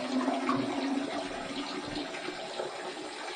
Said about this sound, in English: I'm going to just towel off or rinse off my head with some warm water and this washcloth